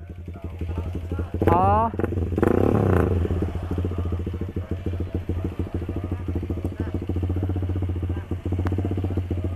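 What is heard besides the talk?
motorcycle engine starting and running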